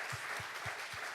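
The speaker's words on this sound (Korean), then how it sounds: "와, 박수로 격려 한번 할까요?" A church congregation applauds during a Sunday service, a brief dense patter of many hands with a few soft low thumps spaced evenly underneath, and nobody talking.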